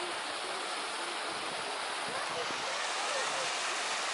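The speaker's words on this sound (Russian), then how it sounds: "Водопад." A waterfall poured into the macaque enclosure at a zoo gives a steady, broadband rush of falling water, continuous and fairly close, with no clear breaks.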